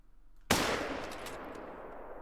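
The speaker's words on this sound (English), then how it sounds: "Shot looked really good." A single loud .270 rifle shot cracks out at a bull reindeer in the Call of the Wild hunting game, followed by a long, fading echo and no talking.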